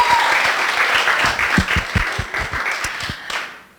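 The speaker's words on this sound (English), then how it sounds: "A big round of applause for having you all here." Audience applause at a FuckUp Nights event in Beirut, a dense wash of many hands clapping loudly throughout with a few sharper nearby claps, fading at the end.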